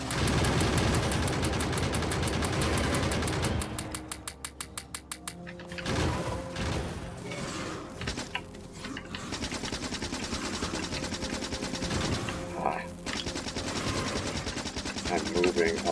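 Gunfire from defensive turrets battling worms in Factorio 1.0, rattling bursts mixed with mechanical game noises and music, with some voice audible at times.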